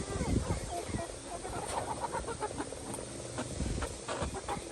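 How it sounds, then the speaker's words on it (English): Backyard chickens clucking nearby, a busy overlapping mix of short clucks and murmurs at moderate loudness, with faint talk underneath. "She's one of my friendlier chickens."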